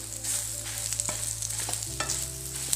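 Anjal fish fries in masala in a pan with ginger and tamarind, a steady close sizzle of hot oil with occasional stirring scrapes and clinks, no talking.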